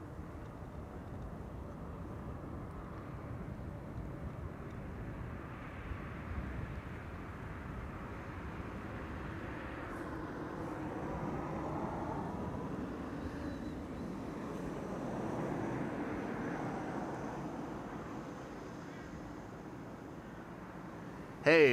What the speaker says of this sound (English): Etihad in the meantime just now taking off from 18 left